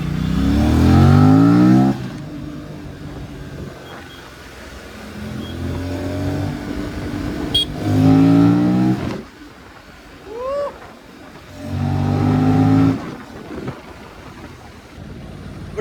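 An Aprilia RS457 motorcycle with a six-speed transmission accelerates in repeated bursts, its engine rising through the revs in several loud pulls separated by brief lulls, with wind and road noise between them.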